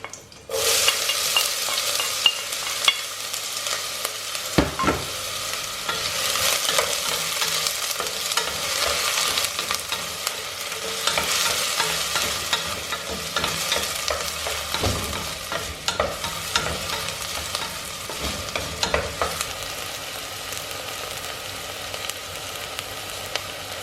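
Onions sautéing in a pan for pasta e fagioli give a steady, bright sizzle, with scattered stirring scrapes and pops throughout, close and alone without speech.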